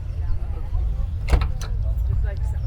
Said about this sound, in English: I'll open the door and show you inside.